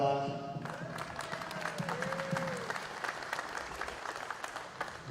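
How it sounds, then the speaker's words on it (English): Crowd applause at an RC racing nationals practice day, a dense, even clatter of many hands that starts right after a voice and keeps going steadily at close range. "Let's give him a round of applause."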